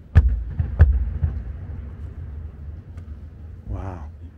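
Two heavy thuds boom and ring out with a long, hollow echo in a large salt mine cavern at Salina Turda, Romania, followed by a brief voice.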